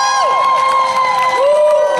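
Festival crowd at an outdoor Elvis tribute show cheers and whoops loudly and close by, with high shouts over a dense, steady roar of voices throughout.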